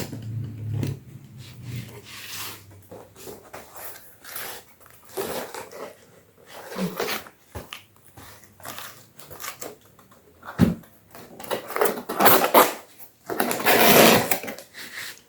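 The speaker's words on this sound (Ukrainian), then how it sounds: "відкриваю коробочку" A cardboard box holding mail-ordered orchids is opened by hand, with close, uneven rubbing, scraping and rustling of cardboard and packing material in bursts, growing busier toward the end; no talk.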